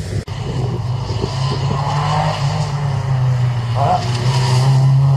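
A Renault Clio Group A race car, number 32, runs a slalom course at Saint-Lô with a loud, steady engine drone throughout, rising slightly in pitch toward the end, while a commentator talks over it.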